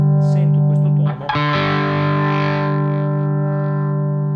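A guitar plays through a KOR distortion pedal with the clip section off and the volume raised, giving thick sustained chords with a brief break and re-attack, loud and saturated, alone without talk.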